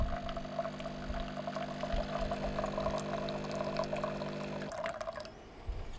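Hot water pouring steadily from a Nespresso Creatista Pro coffee machine, a soft continuous trickling stream over a low machine hum that cuts off near the end, quiet and without talk.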